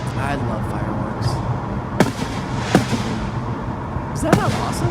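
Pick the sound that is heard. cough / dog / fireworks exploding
fireworks exploding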